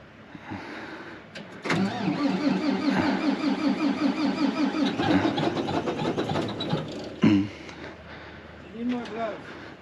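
A bulldozer's diesel engine cold starts at 28 degrees, cranking and catching, then running with a rough rhythmic chug before cutting off abruptly, with a short voice afterward.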